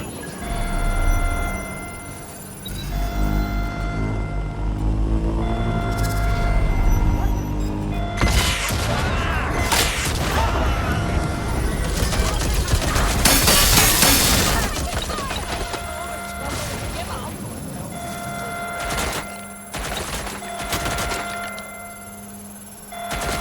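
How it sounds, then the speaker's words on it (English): Suppressive gunfire in a video game comes as rapid bursts and volleys of shots, with loud dense firing in the middle stretch and shouted voices mixed over the action. "Providing suppressive fire!"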